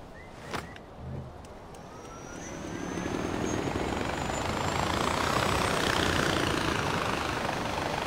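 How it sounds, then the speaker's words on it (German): A helicopter in the video game Far Cry 4 spools up and flies, its rotor wash swelling from a low drone into a loud, steady roar that fills the clip. "schnappen uns gerade den Heli."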